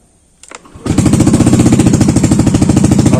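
An older Yamaha Aerox scooter with a modified engine clicks briefly, cranks and fires up, then settles into a loud, steady, rapid putter heard up close with no talking.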